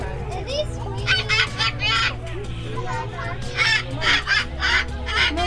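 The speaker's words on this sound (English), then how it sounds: "Kookaburra." A kookaburra calls at a wildlife park in repeated bursts of raucous cackling over a steady low hum, with people talking nearby.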